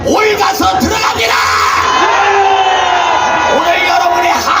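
Large rally crowd shouting and cheering loudly and continuously, a dense roar of many voices with whoops and yells rising and falling throughout.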